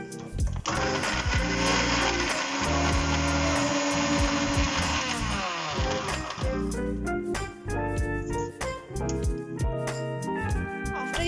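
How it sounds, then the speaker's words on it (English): Electric grinder whirring loudly at medium speed on flour and dry lava cake ingredients, a steady high motor whine for several seconds before it winds down into rattling and clattering. "Now I'm going to grind all the dry ingredients at medium"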